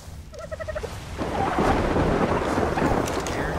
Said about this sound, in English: so it's raining and it sucks